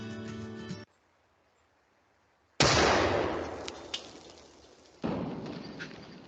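A cannon built to Leonardo da Vinci's design fires two loud, booming blasts a couple of seconds apart, each with a long decaying rumble, after a brief burst of music.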